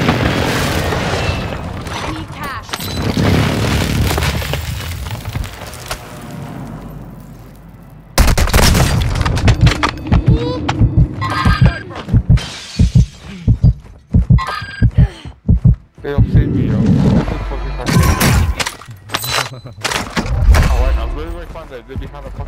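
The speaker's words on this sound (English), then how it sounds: "Hostile airstrike near your location." Explosions from an airstrike in the Call of Duty Modern Warfare video game, heavy booming blasts and thuds rolling in bursts with loud dense gunfire-like impacts, while players talk over the action.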